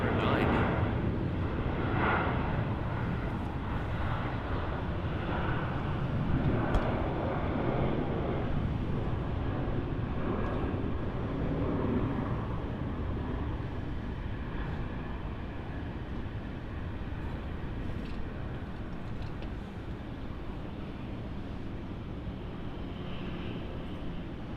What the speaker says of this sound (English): This is the Qantas 737-800, and it is flying off to Melbourne.